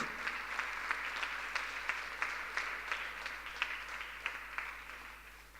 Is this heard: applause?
yes